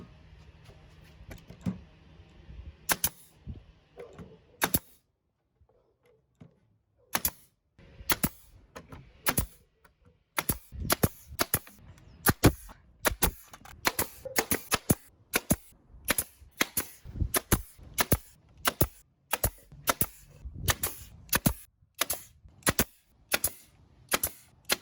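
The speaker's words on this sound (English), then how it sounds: "This, honored guests, is why you always keep your fingers away from the nail gun and anywhere that that nail might go." A nail gun fires nails into a wooden planter box, sharp snapping shots in irregular bursts that grow denser and more rapid toward the end, close and distinct over a quiet background.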